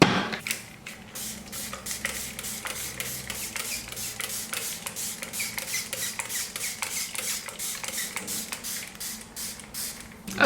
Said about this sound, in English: So I have my spray bottle here. I'm just gonna spray it and kind of just brush through the curls,